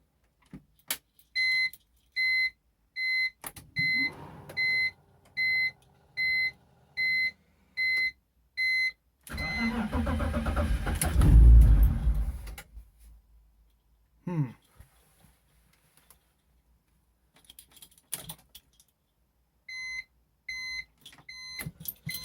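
A BMW E46 after a crankcase ventilation and idle control valve delete: a run of regular electronic chime beeps, then a roughly three-second burst of engine cranking and rumble that dies away into near silence with a few faint clicks.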